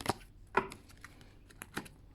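A deck of oracle cards is cut by hand, giving a few soft, separate papery slaps and riffles spread across a couple of seconds, close and fairly quiet, with no voices.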